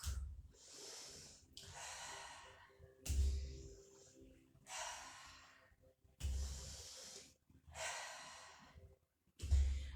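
Deep breaths drawn in and blown out during a Pilates exercise, six or seven audible breaths in slow alternating rhythm, close and fairly clear with soft puffs of exhaled air and no speech.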